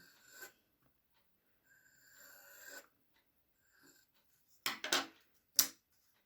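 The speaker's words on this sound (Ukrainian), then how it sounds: "Ставимо ніжку циркуля в центр перетину осьових ліній і креслимо коло." A drafting compass draws a circle on paper, faint scratchy rasps of the pencil lead followed by a few sharper rubbing strokes near the end, close and quiet with silent gaps between.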